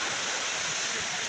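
Shoil waterfall in the morning roars as a steady, loud rush of falling water. The broadband noise is continuous and close, with no breaks.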